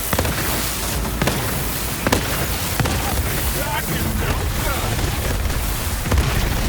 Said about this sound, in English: Also I can throw grenades down with my shield.